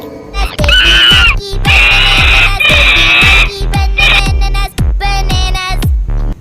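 A cartoon-style monkey screams in repeated high, shrill bursts over a steady bouncy musical backing with thumping beats, loud and close, with short pauses between the cries.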